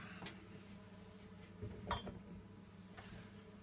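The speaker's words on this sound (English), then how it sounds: "Just grab myself a pan." A metal pan handled in a home kitchen while stewed apple is being made, with a few light clinks and knocks, faint and close, and no talk.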